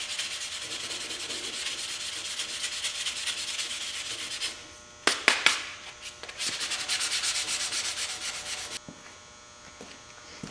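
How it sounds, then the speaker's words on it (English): Power sanding on a custom back rack for a dually truck before priming and painting: a steady abrasive hiss runs, breaks for a few sharp knocks, then resumes strongly before cutting off. "So you got to sand it out."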